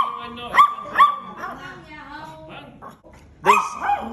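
A dog barks in short sharp bursts, three or four barks spread across a few seconds, mixed in with a person talking nearby.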